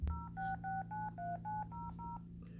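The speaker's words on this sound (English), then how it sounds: "Let me get them on the phone." A landline telephone is dialed with eight touch-tone beeps in a quick, even rhythm over a faint steady hum, quiet and close, with no voices.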